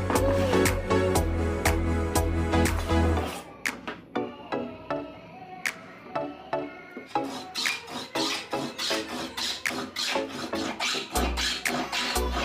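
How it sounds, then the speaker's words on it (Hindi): A hand plane shaving the tapered edges of a wooden chisel holder, a rapid series of short, close rasping strokes following a stretch of louder background sound. "इसकी आगे की जो धारे हैं इनको भी मैं हल्का हल्का रंदा मारकर टेपर कर दूंगा"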